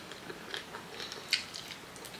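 Crunchy bites and wet chewing of chicken feet with fries and pepper sauce, close to the mic, with irregular soft crunches and one sharper bite standing out.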